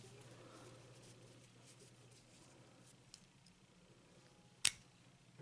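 A Gerber Airlift knife blade slices through paracord with a single sharp, snappy cut near the end, after a few seconds of quiet handling noise and a faint earlier click, close up.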